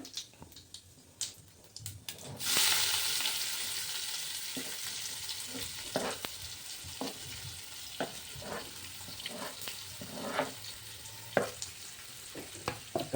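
Onions and cumin hit hot oil in a pan and burst into a loud, close, continuous sizzle, with scattered spatula taps and scrapes as the frying goes on.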